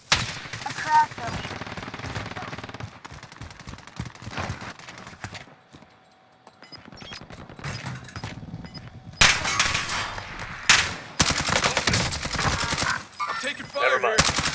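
Rapid automatic gunfire crackles in Call of Duty: Modern Warfare. Dense, loud bursts of shots fill the second half among other battlefield game sounds.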